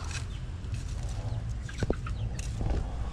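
A frightened chicken lets out brief agitated clucks near a rotting coconut tree trunk where grubs are being dug out, over steady outdoor background noise.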